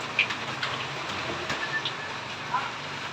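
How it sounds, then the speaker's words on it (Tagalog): Heavy rain pours down amid gusting wind, a dense, rushing hiss with a few sharper drops and splashes breaking through, steady and fairly close. "Ano po kabayan, malakas na yung ulan."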